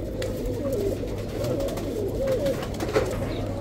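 Pigeons coo repeatedly at the Al-Kasra pigeon market in Baghdad's Adhamiya district. Soft, rolling coos sit over a steady market murmur and low background noise.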